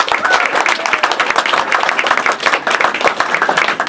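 Dense audience applause at a Helen Hayes Award nominees reception for Washington theater, many hands clapping in a loud, steady, crackling wash that continues without letup.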